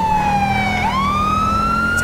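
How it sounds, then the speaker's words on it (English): Police siren in the video game GTA V with the LSPDFR mod wails loudly and up close, one long sweeping tone that dips and rises again over a low engine hum. "let's get our sirens out"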